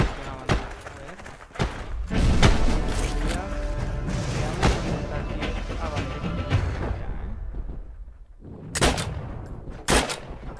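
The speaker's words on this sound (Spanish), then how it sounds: "¿dónde cojones se están disparando?" In the PC shooter game Heroes and Generals, bursts of gunfire and heavy impacts crack and thud, dense and loud at first, then thinning to isolated sharp shots, with a player's voice underneath.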